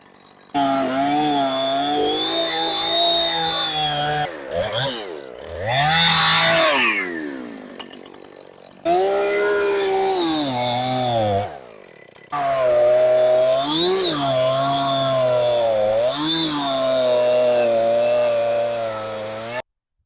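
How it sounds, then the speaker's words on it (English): A chainsaw cuts down through the top side of a log in loud, close bursts, revving high and then bogging under load, with short pauses between cuts. "cutting from the top side of a log like this is going against what a chainsaw is designed to do"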